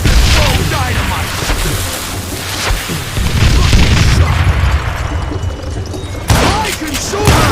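Dynamite goes off in the Western shooter Call of Juarez: Gunslinger. A series of loud, heavy booms and thuds roll through with gunfire-like bursts, and voices speak over the din.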